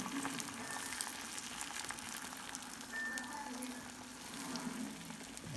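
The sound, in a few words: scrambled eggs cooking in pan on medium heat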